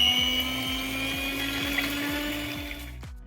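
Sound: electric mixer beating eggs at low speed

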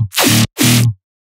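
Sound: dubstep FM bass synth from Serum preset

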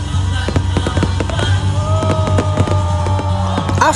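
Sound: fireworks exploding at GenSan Tuna Festival

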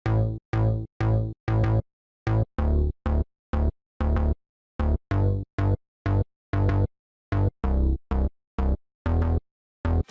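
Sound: synth bass line following the bass notes

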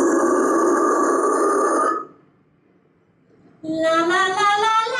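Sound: vocal scream using false chords placement

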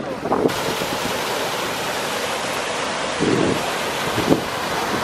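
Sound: waterfall

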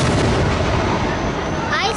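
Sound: fireworks exploding at Miamisburg Riverblast

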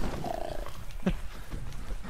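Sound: cougar roaring in a video game

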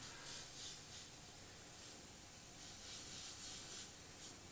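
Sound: airbrush spraying transparent orange urethane paint

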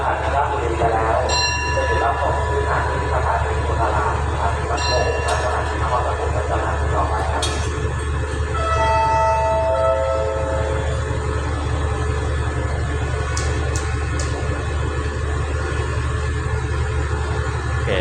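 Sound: train 170 departing Ratchaburi station

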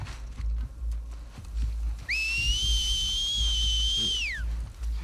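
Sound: enemies whistling to each other in The Last of Us Part II video game

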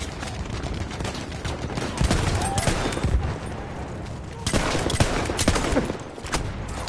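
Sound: Sjogren Inertial shotgun firing in Battlefield 1 video game

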